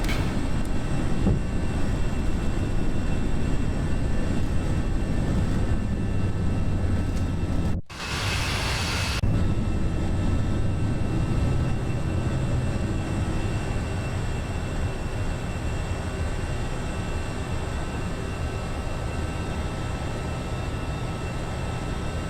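Continuous loud engine roar of an easyJet Airbus A320 on takeoff and climb-out in a flight simulator, a steady broadband rumble with a brief dip partway through, no talking.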